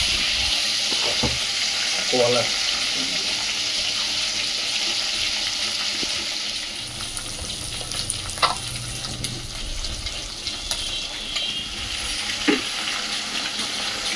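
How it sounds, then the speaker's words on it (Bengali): Pieces of fresh catla fish fry in oil, making a steady, close sizzle and spitting crackle, with occasional sharp taps and scrapes of a spatula against the pan. "মাছটাকে ছেড়ে দিচ্ছি। বেশি কড়া করব না, জ্যান্ত মাছ তো হালকা লাল হলে আমি তুলে নেব।"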